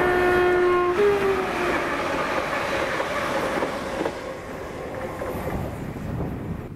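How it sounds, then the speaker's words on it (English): ScotRail class 380 electric passenger unit 380109 on the Glasgow Central to Ayr service passing close by with a loud horn blast at the start, then a sustained rumble and rhythmic clatter of wheels over rail joints. "the 1432 ScotRail service to Ayr from Glasgow Central with 380109"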